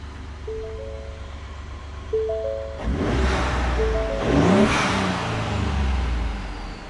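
A 2016 Ford F-150 with a turbocharged engine and a K&N cold air intake starts and revs, a rising whir and rumble swelling in two surges, loud and close, with no talk.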